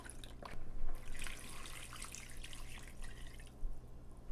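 Chicken broth and water pour into a soup pot, a soft, continuous liquid splashing and trickling with a few dripping accents, fairly faint and close, under a low steady hum, without talk.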